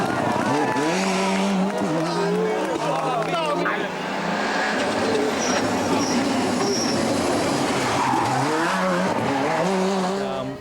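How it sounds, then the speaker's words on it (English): A WRC rally car in its rally livery drives by with a loud, continuous engine roar whose pitch rises and falls through gear changes, steady and close over the whole stretch. "this car is a WRC car"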